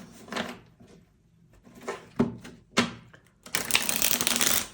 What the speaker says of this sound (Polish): Oj, tu się rozsypały karty, ale już.